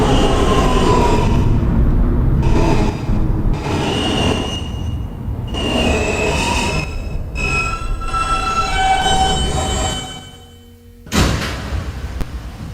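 An R160 New York subway N train runs on the R line, its wheels squealing loudly over a steady rumble that drops off briefly before a sharp burst of noise returns near the end.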